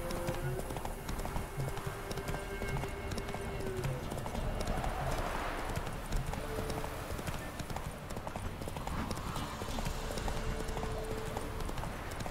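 Horse hooves clip-clopping steadily in the Witcher 3 video game, a continuous rhythm of close hoofbeats under low ambient game sound, with brief whinny-like tones and a voice talking at times.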